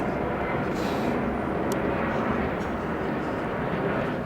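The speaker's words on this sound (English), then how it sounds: "Plane going overhead because we're not far from City Airport." An aeroplane passes overhead near London City Airport in the Aldgate area, a steady, loud, broadband engine roar that fills the whole stretch outdoors without letting up.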